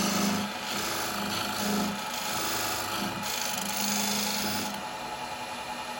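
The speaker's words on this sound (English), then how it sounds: "Now I can come in and just get my angle for my jaws, my dovetail." A woodturning tool scrapes and rasps against a wooden natural-edge bowl spinning on a lathe while cutting a dovetail recess for chuck jaws, a loud continuous cut that swells and eases in repeated passes.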